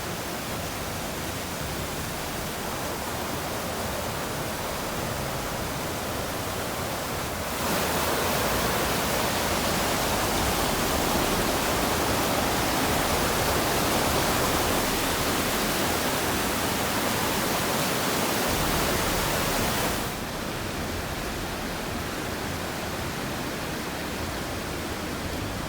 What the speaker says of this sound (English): After you come down that hill, you come to this picturesque stream.